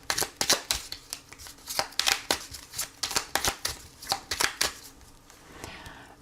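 A deck of tarot cards being shuffled and cut, a rapid run of crisp riffling snaps and taps, close and fairly loud, easing off toward the end.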